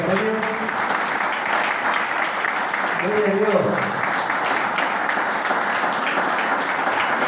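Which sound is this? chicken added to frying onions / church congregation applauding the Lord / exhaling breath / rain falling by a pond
church congregation applauding the Lord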